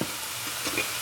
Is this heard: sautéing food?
yes